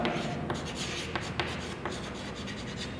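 Pen or pencil scratching across notebook paper in steady rubbing strokes, close and fairly quiet, with a few sharper ticks scattered through and no voices.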